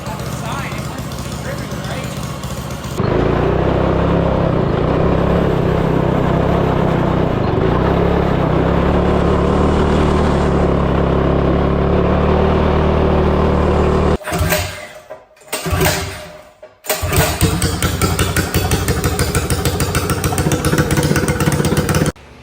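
A small engine on a rusty $160 custom go kart runs loud and steady at a constant rumble, cuts out briefly, then roars back for the test ride.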